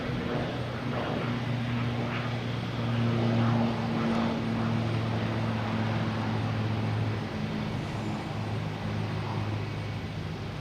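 A propeller airplane taxis at Boston Logan Airport, its engine a steady droning hum with a slight swell partway through, heard from a moderate distance with no talking.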